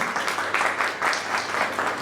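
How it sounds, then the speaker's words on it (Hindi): Audience at a satsang applauding to welcome visiting saints, a burst of crowd clapping with rhythmic swells, fairly loud and sustained throughout. "मैं चाहूंगा कि एक जोरदार तालियों से उनका स्वागत करें"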